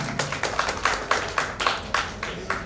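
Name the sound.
audience applause, clapping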